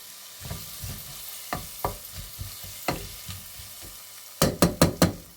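A chickpea curry cooking in a pot on medium heat, with a constant fry sizzle broken by repeated stirring scrapes and knocks of a utensil, ending in a quick run of four sharper taps against the pot.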